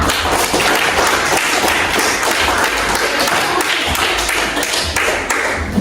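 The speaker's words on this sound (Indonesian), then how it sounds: "Tepuk tangan dulu untuk Aldi dan Kayla." Loud, close clapping from a classroom of students rings out for two classmates, a busy patter of hand claps with thumpy taps mixed in, continuing steadily for about six seconds.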